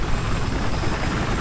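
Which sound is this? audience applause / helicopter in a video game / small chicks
helicopter in a video game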